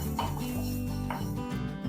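Coriander seeds dry-roast in a pan for curry leaf chutney, stirred with continuous close scraping and light rattling of seeds against metal over a steady low hum, no talk.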